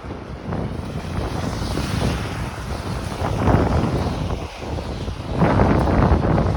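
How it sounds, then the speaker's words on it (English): Cold wind buffets a microphone outdoors during a walk along Millwood Road in Thorncliffe Park, a steady loud roaring rush that swells and gusts, with no talk. "the cold doesn't bother me, it's the wind that bothers me"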